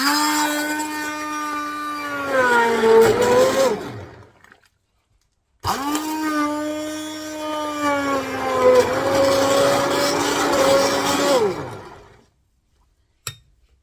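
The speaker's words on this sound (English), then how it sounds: "I'm going to go for a nice hand blender. This is going to get noisy." A hand blender whirs in two long bursts close by, blending broccoli and Stilton soup, its motor whine dipping and rising in pitch as it churns, with a brief pause between.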